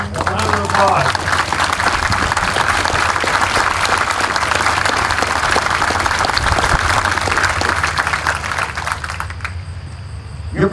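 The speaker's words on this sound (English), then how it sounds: "All veterans, a round of applause" Veterans stand while a crowd applauds them with sustained, loud clapping at a public ceremony, dense and steady for about nine seconds before thinning out at the end.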